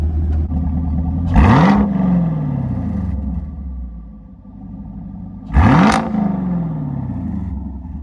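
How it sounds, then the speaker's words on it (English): A sports car fitted with an MBRP exhaust is revved twice in place, each blip a sharp rising roar that peaks and then sinks back to a rumbling idle, loud and close, with no talking. "I don't really want to rev it, but I'll give y'all one little rev."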